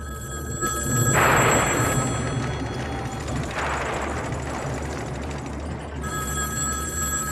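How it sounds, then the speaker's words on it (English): A telephone bell ringing in two long bursts with a pause between them, over a steady background hum. "Hold on, my phone's ringing."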